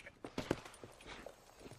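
Horse hooves clip-clop at a walk in the video game Red Dead Redemption, a few close, uneven knocks over a faint background.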